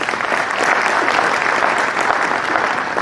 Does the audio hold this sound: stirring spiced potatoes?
no